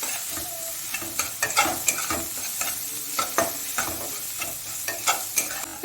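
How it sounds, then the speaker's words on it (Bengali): Finely chopped onion fries in oil with cumin and sugar, a light sizzle broken by repeated scraping stirs of a spatula in the pan, with no voices. "একটা পেঁয়াজ ছোট ছোট করে কেটে নিয়েছিলাম, ওটা দিয়ে দিয়েছি, দিয়ে একটুখানি ভেজে নেব।"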